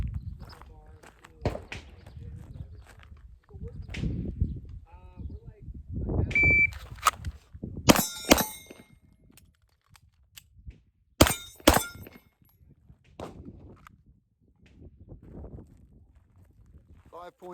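Smith & Wesson M&P 2.0 Competitor pistol fired at steel targets from 10 yards: two sharp shots, a pause for a reload, then two more quick shots, each with a bright ringing clang, amid low background talk and shuffling.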